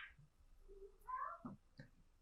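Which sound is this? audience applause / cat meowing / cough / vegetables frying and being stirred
cat meowing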